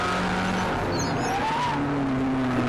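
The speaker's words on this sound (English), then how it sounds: "Did you hear the tires? I locked the right front up." Tires on a Spec Miata race car squeal in a sustained screech as the right front wheel locks under braking at Carolina Motorsports Park, rising over a steady engine roar.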